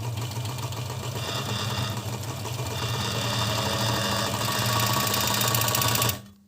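An Agat DonLock overlock sewing machine runs steadily while stitching a seam, with a loud, continuous mechanical whir and rapid needle rhythm lasting about six seconds before stopping abruptly.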